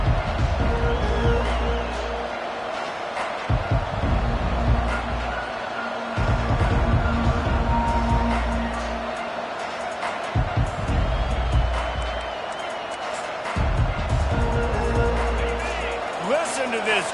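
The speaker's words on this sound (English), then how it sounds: "Listen to this crowd just shaking the girders of this place, trying to help their defense" A packed football stadium crowd roars at Washington vs Sam Houston to rally the defense: a sustained, loud wall of cheering with a play-by-play commentator talking over it.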